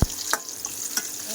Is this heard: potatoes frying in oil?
yes